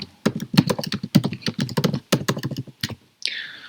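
Rapid typing on a Mac computer keyboard, close and dry: dense irregular bursts of key clicks with brief pauses, ending in a short scraping sound, with no voices.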